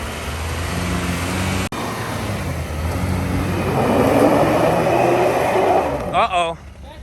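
A diesel AEV ZR2 Bison pickup on 37-inch tires driving through fresh snow, a steady close engine drone and tire rumble that swells gradually, with voices talking inside the cab toward the end.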